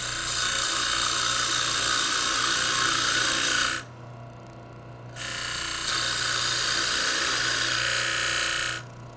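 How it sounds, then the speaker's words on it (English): A wood lathe parting tool cuts a tenon on a spinning Christmas ornament blank, a steady loud scraping hiss that drops away briefly for about a second before resuming until near the end. "Now I'll switch to a parting tool. Create a tenon about 1 inch in diameter here."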